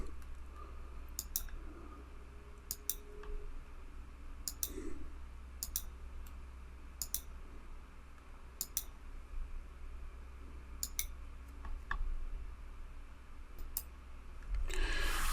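Computer mouse clicks at a desk, sharp isolated ticks every second or two over a quiet low hum, about a dozen in all, with a louder rustle at the very end.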